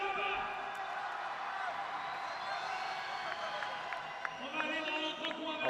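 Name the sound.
crowd cheering in the stands at a French BMX race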